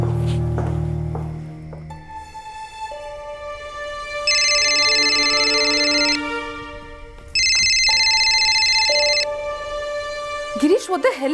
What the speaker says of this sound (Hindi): गिरीश फोन क्यों नहीं उठा रहा है?